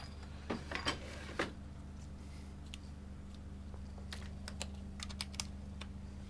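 Typing on the keyboard of a MacBook A1278 laptop under repair testing, a run of quiet, uneven key clicks in short bursts over a steady low electrical hum, with no talk.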